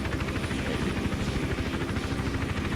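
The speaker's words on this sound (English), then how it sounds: "So there's still a helicopter around there" A helicopter in the Hitman Absolution video game hovers nearby, its rotor thumping in a fast, steady beat over a constant engine drone, loud and close, with no talk over it.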